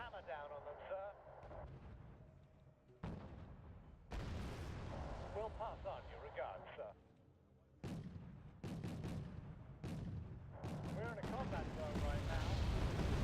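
Artillery fires in the Wargame: AirLand Battle video game, several heavy booms with rumbling tails spaced a few seconds apart, someone talking over the barrage throughout.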